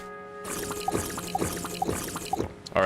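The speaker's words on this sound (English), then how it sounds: "All right, we took a drink." Drinking water in the survival game Stranded Deep, a steady pouring, gulping rush with four evenly spaced swallow-like glugs, close and alone against faint background hum.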